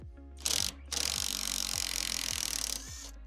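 TEENO 320 Nm brushless impact wrench driving a screw in its first mode: a close, loud motor whine broken by rapid hammering impacts, starting with a short burst, then a longer continuous run that cuts off cleanly.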